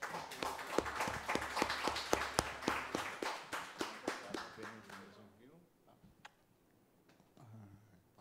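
Audience at a municipal council session honouring a machinery company claps in a brisk, even rhythm for about five seconds, then the clapping fades into scattered sounds and voices.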